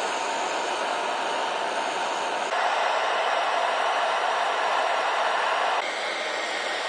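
A homemade metal can stove burning charcoal with air forced through it, a steady loud hissing roar like a blower, briefly rising in strength midway, with no voices.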